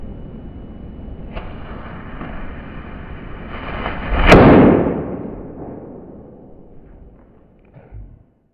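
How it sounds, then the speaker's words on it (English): A firecracker set off behind a bag of water gives a single sharp explosive bang midway, loud and close, followed by a decaying rumble over steady background noise, then a small thump near the end. "a bag of water in front of a firecracker that's lit"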